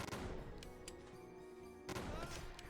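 A shotgun in Blade & Sorcery fires two faint blasts almost two seconds apart over a low, steady tone.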